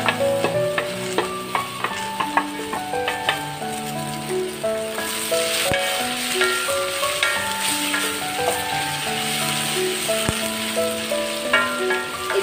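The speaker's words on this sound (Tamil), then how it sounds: "பூசணிக்காய் வந்து நல்லா ஒரு நிமிஷம் நான் வந்து ஃப்ரை பண்ணிட்டேன்" Pumpkin and mushroom stir-frying in a pan with mung bean sprouts, a steady sizzle broken by frequent clinks and scrapes of a utensil against the pan, with faint background music.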